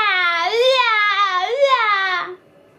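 A human voice imitates a baby crying, as part of a spoken tiger story: a loud, close, sustained wailing sob that rises and falls in two swells before breaking off.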